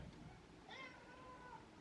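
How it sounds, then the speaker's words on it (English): A house cat lets out a clear meow that rises and falls over about a second, close by, against quiet room hiss with no speech. "If you hear that noise, that's my cat."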